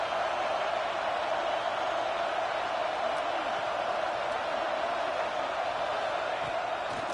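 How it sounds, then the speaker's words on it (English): A fired-up home crowd roars at a Penn State vs. Oregon football game, a dense, steady wash of distant cheering that holds level for several seconds with no clear peaks. "this home crowd is fired up and ready to make a difference today"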